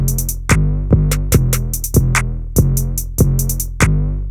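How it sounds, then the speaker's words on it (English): A counter snare in an FL Studio trap beat hits in a syncopated pattern over booming 808 bass and bright hi-hats, loud and upfront with no voices. "And then we also have a counter snare."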